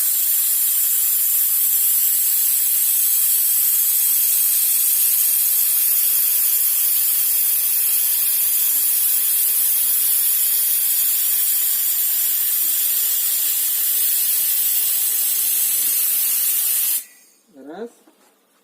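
A compressor-driven spray gun paints wooden tongue-and-groove paneling with a loud, continuous airy hiss that holds for many seconds, then cuts off abruptly, leaving a brief quieter tail.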